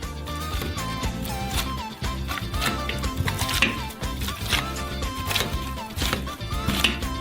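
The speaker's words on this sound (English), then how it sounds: "with the help of a potato masher, we knead the potatoes" A potato masher works through a pot of soft boiled potatoes, giving repeated dull thumps and squelches in an uneven rhythm, close and moderately loud.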